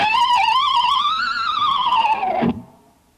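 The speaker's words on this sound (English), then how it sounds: "what I'm doing there is a succession of 3 harmonics and using the tremolo bar in a way to bend down and up and wiggle at the same time" An electric guitar plays three successive harmonics while the tremolo bar bends them down and up and wiggles them, giving a warbling, swirling, distorted tone that rises, wavers, dives and cuts off abruptly, with no talking.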